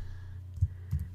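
Keystrokes on a computer keyboard while renaming files in Adobe Photoshop CS6. Three soft, muffled clicks come at uneven intervals over a quiet room hum.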